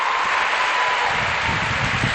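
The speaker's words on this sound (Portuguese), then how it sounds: "Aplauda mesmo esse Deus misericordioso" A church congregation applauding during a service, a dense, even wash of clapping that holds steady throughout at moderate volume.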